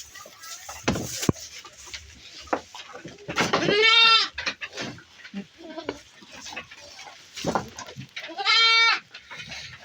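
Jawa Randu goats feed on odot grass and coffee husks, with soft rustling and munching broken by two loud, wavering bleats nearby.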